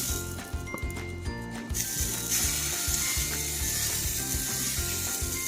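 Moong dal batter sizzling on a hot pan for a thick dosa-style snack, a soft hiss beneath repeated rhythmic scraping and clicking, close and moderately loud, with no talking.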